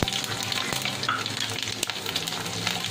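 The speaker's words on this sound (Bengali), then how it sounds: "দেখো, এবার আমি এই রসুন কুচিটা দিয়ে দেবো।" Chopped garlic sizzles loudly in hot oil for sambar dal, a dense steady frying hiss with scattered crackles and the clink of stirring.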